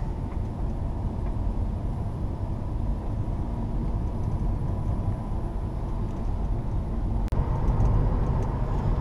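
Car driving on a road, heard from inside the cabin as a steady low rumble of engine and tyre noise, with a brief knock or bump near the end; no talking.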